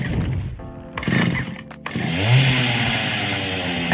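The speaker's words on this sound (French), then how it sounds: "c'est bien le bruit de la tronçonneuse" The iconic horror-film chainsaw from The Texas Chainsaw Massacre sputters and revs in short bursts, then roars steadily at full throttle, loud and close.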